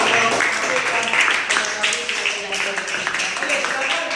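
Classroom audience clapping for the first presentation group during a teacher training session, dense broadband applause that stays loud and steady throughout, with voices mixed in beneath it.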